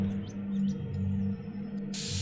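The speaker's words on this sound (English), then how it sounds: "And is this just straight up spray paint?" Aerosol spray paint hissing onto wood in the woodworking simulator game Super Lathe, a soft steady hiss over low background hum, ending in a brief loud burst of spray.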